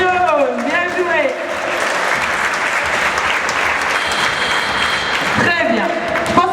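A crowd applauds basketball players at a youth minibasket coaching clinic, steady clapping that fills the room for several seconds, with voices rising briefly at the start and end.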